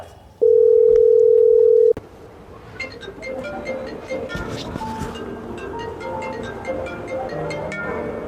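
A phone call to a friend starts with a single loud, steady telephone tone lasting over a second, then stops, followed by quieter background sounds and faint voices.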